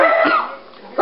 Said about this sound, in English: They are barking.